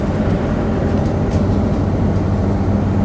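Transperth route 415 bus riding into Mirrabooka bus station, a steady, loud low engine and road rumble heard from inside the cabin, continuous with no talk.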